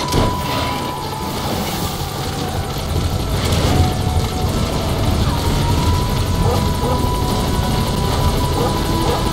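A support helicopter arrives at a landing zone in Metal Gear Solid V: The Phantom Pain, its rotors a steady, loud, close whirring drone that fills the scene without a break.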